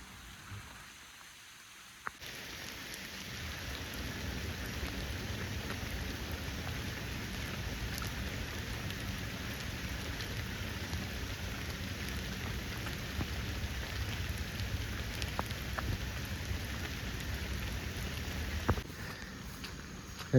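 Steady rain falling outdoors during a hike past ponds and wetlands, a dense even hiss of drops on leaves and ground that holds constant throughout, with a faint clatter at the edges.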